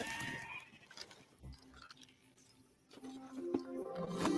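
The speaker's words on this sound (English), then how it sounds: "Sheep." Sheep bleat in a Fortnite gameplay trailer, a few short bleats heard faintly over quiet game sounds and music.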